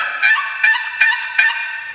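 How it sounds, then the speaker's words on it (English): Four raspy, honking yelps from a chalked turkey box call being scraped, evenly spaced and loud, with no talking. "This is a box call. Just take chalk, rub it on there, and go like that."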